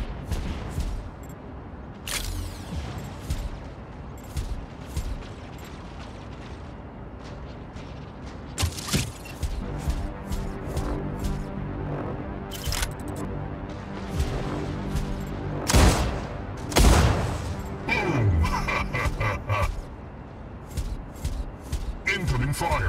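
Gunfire in the mech combat game Mech Arena crackles in irregular bursts, with sharp shots and heavier booms over a continuous mechanical background, and game voice lines can be heard throughout.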